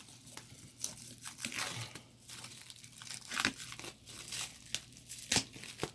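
Packaging for a wired HyperX Alloy Elite RGB keyboard with Cherry MX Brown switches is opened close up. Crinkling plastic and tearing sounds come in irregular bursts, with no talking.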